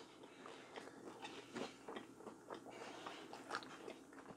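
Someone bites and chews black aglio fried chicken topped with crunchy garlic chips, giving soft close crunches and chewing sounds in a fairly quiet room, with no talking.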